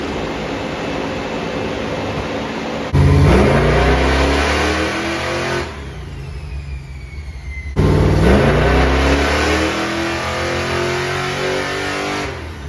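A big-block car engine revs hard on a dyno in two long pulls, its pitch climbing, with a steadier idling drone in between.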